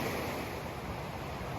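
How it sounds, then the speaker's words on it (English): Steady flowing water of a creek running beside a mountain hiking trail in wilderness backcountry, a continuous close rushing wash with no talking. "the trail's taking me right by the creek now"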